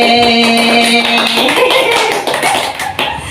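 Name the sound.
group clapping game with counted claps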